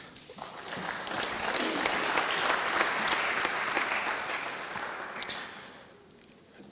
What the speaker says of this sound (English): join me in welcoming this esteemed panel with a lusty round of applause